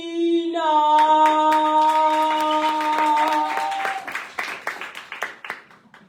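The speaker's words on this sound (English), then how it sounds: "So, a round of applause for Dumiso Aina." A sustained sung chord fades out as scattered hand claps rise into a brief round of applause at a live poetry slam, thinning toward the end.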